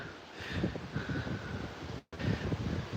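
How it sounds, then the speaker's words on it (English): Gusty wind buffets the microphone with low rumbling blasts during an outdoor dog walk in Edinburgh, rising and falling, with a brief dropout midway. "It's a bit windy."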